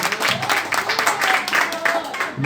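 A church congregation claps along steadily, with rhythmic palms sustained throughout under a singing or speaking voice.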